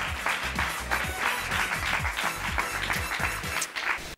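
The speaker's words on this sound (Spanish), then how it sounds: "Recibamos a Jessy con un fuerte aplauso." Applause from a TV studio audience greeting a guest on a Spanish variety show, steady, loud clapping throughout, with strong low-frequency rhythmic beats, likely music, running underneath.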